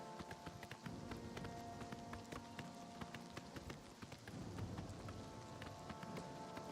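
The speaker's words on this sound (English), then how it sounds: "Does the game look a lot worse to you now that it started raining?" Steady rain falls in the fantasy video game Oblivion, a dense continuous patter with sharper droplet ticks and faint rhythmic hoof-like clopping throughout.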